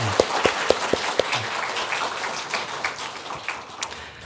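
A church congregation at a Sunday worship service applauds newlyweds, a steady crackling wash of many hands clapping at moderate distance, with a few sharper claps near the start.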